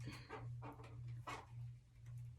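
A dog gives a run of short barks and yelps, spaced about every half second, moderately close, over a steady low electrical hum.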